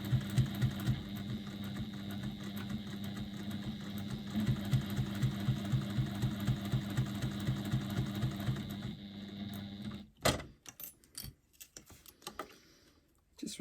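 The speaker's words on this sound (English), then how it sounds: "I'm kind of stitching on the inside of that circle that I've created" A sewing machine runs in a steady rapid stitching rhythm for about ten seconds while sewing around the inside of a fabric circle, then stops, followed by a few sharp handling clicks and rustles.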